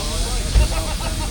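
Steady close hiss of escaping steam from a Fowler steam traction engine named Endeavour at an outdoor steam working weekend, with a low rumble and a brief thump partway through.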